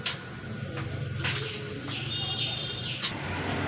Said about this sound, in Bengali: এখানে কিন্তু আরেক জোড়া কবুতর আছে, এগুলো হচ্ছে আপনার গ্রিজেল